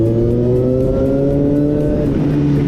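A Suzuki GSR 750 motorcycle engine runs loud and close with a steady, throaty drone whose pitch dips slightly near the end.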